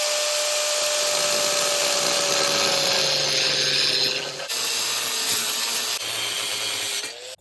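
A power tool cuts a slice out of a steel prerunner truck bumper for a 5th Gen Ram, a steady loud grinding whine running unbroken for several seconds before easing off near the end, with no talking.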